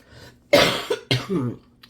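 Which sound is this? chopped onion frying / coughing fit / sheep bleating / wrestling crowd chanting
coughing fit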